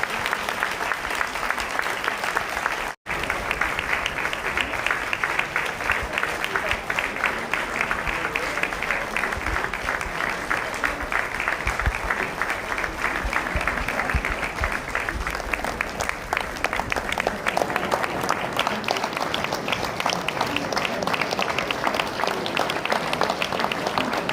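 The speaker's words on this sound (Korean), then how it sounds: "우리 큰 박수로 기뻐해 주셨으면 감사하겠습니다" Sustained applause from a church congregation at an ordination and retirement service in a Korean church, a dense, steady roar of many hands clapping for over twenty seconds.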